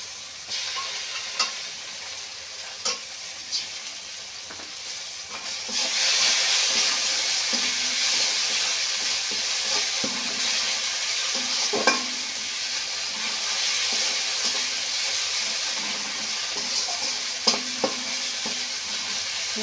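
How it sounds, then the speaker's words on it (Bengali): Mustard and green chilli paste sizzles steadily in a hot pan, a continuous broadband frying hiss that grows louder partway through, with occasional soft clinks of a spoon stirring. "মশলা কষা আমার হয়ে গেছে"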